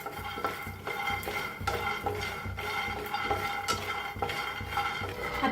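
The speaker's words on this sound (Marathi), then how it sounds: "शेंगदाणा भाजून घेऊया।" Peanuts being dry-roasted and stirred in a pan, with steady scraping and rattling of the utensil against the pan and a rhythmic clatter of nuts, close and continuous with no talk.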